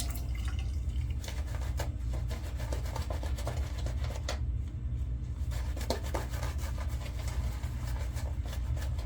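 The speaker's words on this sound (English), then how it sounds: "Throw some more water at it." Water is splashed onto a brush loaded with shaving soap lather, producing close wet squelching, dripping and rubbing sounds over a steady low background hum, continuous throughout with occasional sharper drips.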